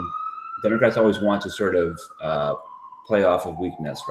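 Sirens from outside wail as a steady, slowly falling tone beneath someone talking continuously, staying in the background for the whole stretch.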